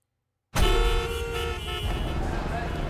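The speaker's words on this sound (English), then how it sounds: "Damn, it's so loud in this city. They're honking so much." Car horns honking in a busy city street in a movie trailer, a sudden loud burst of layered tooting over dense traffic noise that keeps going.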